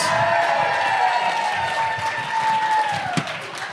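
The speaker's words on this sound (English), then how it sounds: "Let's give Jasleen a round of applause." Audience applause during a classroom-style presentation, a short burst of clapping with some cheering, fairly loud and close, fading near the end.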